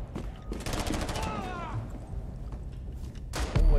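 Gunfire in the video game Rainbow Six Siege: clustered bursts of rapid shots near the start and another sharp burst at the end, with a quieter stretch of game noise between.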